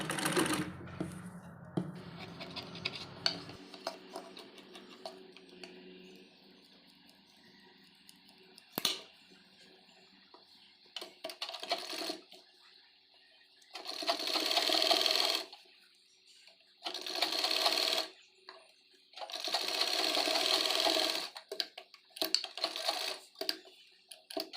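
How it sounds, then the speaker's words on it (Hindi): A sewing machine stitching binding onto the armhole of a baby frock, running in several bursts of rapid mechanical whirring separated by quiet pauses and faint handling clicks. "नीचे की साइड में इस पट्टी को रखकर यहाँ से सिलाई करेंगे"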